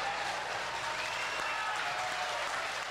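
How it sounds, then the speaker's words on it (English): A dense, steady ovation from a political gathering after a candidate's withdrawal speech, continuous crowd clapping at even loudness throughout with no pauses. "The ovation lasted for several minutes."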